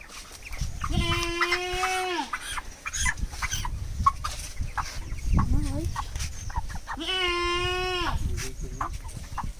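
Chickens on a poultry farm crow loudly twice, several seconds apart, with softer clucks and farmyard noise in between.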